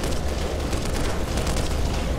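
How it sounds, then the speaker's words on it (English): Tank blown up in the video game Black Mesa: a dense, sustained rumbling blast filling the whole short stretch, loud and steady with no clear separate booms. "They're blowing up that tank, it looks like."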